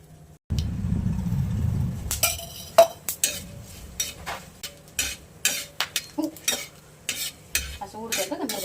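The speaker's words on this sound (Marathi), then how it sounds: "असं उडतंय बघा माझ्या लवंग. कधी पण असं भाजताना लक्ष देऊन भाजायचं." Cloves dry-roasting in a home kitchen pan pop and crackle in short sharp bursts, irregular and close, following a brief low rumble, with light scraping of a utensil against the pan.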